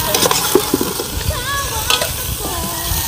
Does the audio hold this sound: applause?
no